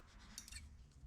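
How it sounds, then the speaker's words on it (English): Sharp scissors snip through a cord wrapped in masking tape, cutting it at an angle during rope-coiling craft work; a couple of quick, quiet cuts close by with no talking. "And cut it on an angle like you did at the start."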